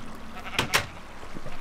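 Sheep in the Minecraft video game, kept in a flock in a downstairs pen, giving two short bleats close together over quiet background noise.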